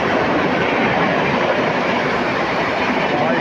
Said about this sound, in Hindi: फुल हॉन्किंग के साथ भाई, full honking, Madgaon Rajdhani express.